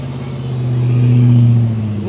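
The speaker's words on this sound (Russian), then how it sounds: "Да, видите, уже там по ходу с раздаткой что-то. Такие характерные звуки." A jeep with a failing transfer case at an off-road race drones close by, its engine swelling to a steady, strained peak and easing off slightly over two seconds.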